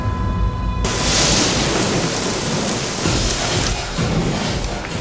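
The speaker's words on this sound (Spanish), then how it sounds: "La lluvia tapaba el fuego" Heavy rain pours steadily and loudly, with a low thunder rumble underneath, continuous throughout with no speech.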